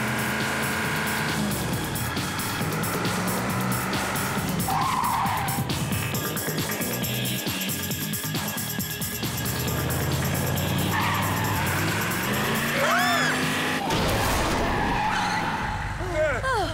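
A car driven hard rally-style skids with squealing tires across loose ground, the screech rising and falling through sweeping slides, loud and close with engine roar underneath and people talking in the cabin.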